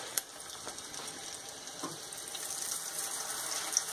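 A corn-masa gordita frying in very hot oil gives a steady, close, hissing sizzle that runs the whole time, with an occasional small pop and no talk.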